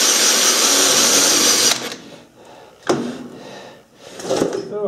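The centre of a wood cube is drilled out for mounting on a wood lathe. A loud, close power-drill whine cuts off abruptly, followed by softer clunks and brief spin-ups of the tool.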